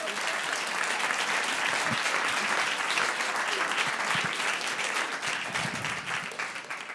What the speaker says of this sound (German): gib mir den Applaus